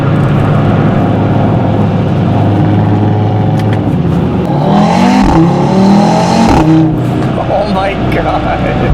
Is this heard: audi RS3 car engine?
yes